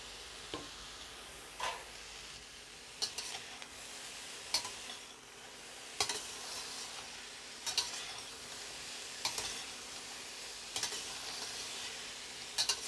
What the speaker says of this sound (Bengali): এবার দিয়ে দিচ্ছি ভেজে রাখা পনির